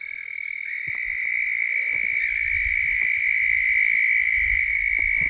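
A chorus of red-spotted toads trills continuously at a high pitch from a small pond at night, overlapping calls from nearby and farther off, with faint rustling and low thumps below.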